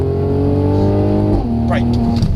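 A Mercedes-Benz C43 AMG engine pulls hard under full acceleration, a loud close drone climbing in pitch, dropping briefly at a gear change, then rising again with faint talk in the cabin.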